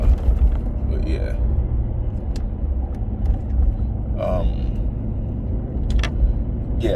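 A BMW E92 M3 cruises with a steady low engine rumble and road noise underneath close conversation inside the car.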